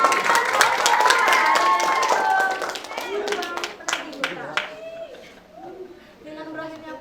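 Applause and clapping from an audience after a school theatre performance at a vocational high school drama exam, loud and sustained at first, then thinning into scattered claps under talk.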